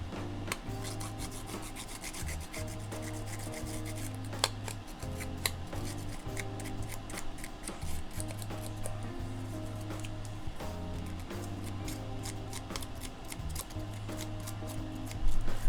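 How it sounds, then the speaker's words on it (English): A Tim Holtz Distresser scrapes around the edges of craft cardstock inked with black ink, making a steady, close, rhythmic rasping scratch that runs continuously with brief pauses. "I'm going to use my Tim Holtz Distresser and just go around the edges"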